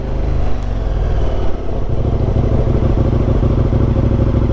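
A KTM 1290 motorcycle rides along after a front wheel bearing change, a loud, continuous engine rumble with a brief dip before settling into a steady throbbing drone.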